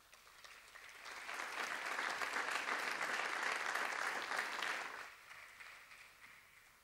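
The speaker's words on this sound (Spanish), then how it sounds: "Fuerte el aplauso." Audience applause at a town festival proclamation event, swelling to a steady, full roar of clapping for a few seconds before tapering off into lighter claps.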